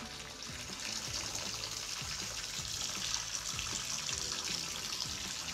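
Water runs steadily from a Delta T17 Series faucet, a constant broadband hiss and splash of tap water into a sink at close range, lasting the whole stretch without any talk.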